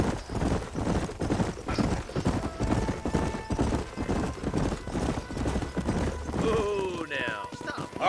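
Horses clip-clop at a steady trot through an Old West setting in the video game Red Dead Redemption. Rapid hoofbeats carry throughout, a whinny rises near the end, and voices are mixed in underneath.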